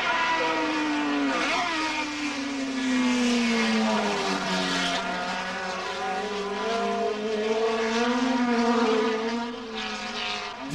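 Race cars screaming past at speed on the Nürburgring circuit, a loud high engine whine rising and falling as the cars pass, with no talking.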